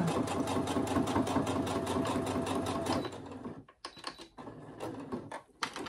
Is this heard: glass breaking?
no